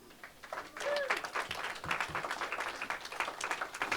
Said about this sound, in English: Please, with a warm round of applause, welcome back Mary Otterstrom and Jimmy Ingold.